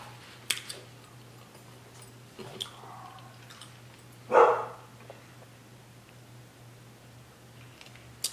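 A single dog bark rings out in the distance around the middle, with a few faint ticks and a low steady hum underneath.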